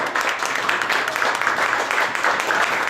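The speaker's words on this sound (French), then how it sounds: "On les applaudit très fort." A crowd applauds at a ribbon-cutting inauguration in Brussels, producing a dense, steady wash of many hands clapping together that lasts throughout at an even, fairly loud level.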